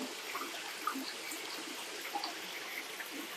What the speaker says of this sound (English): So we're going to pour these guys in.